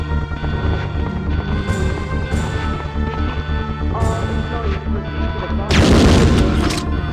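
Grenade blast in the Resident Evil 2 remake, a heavy booming explosion bursting out near the end over a dense, loud layer of game noise and rumble.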